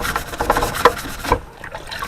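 Wet sanding a car headlight lens by hand, a close scraping rub in short repeated strokes that fade out near the end.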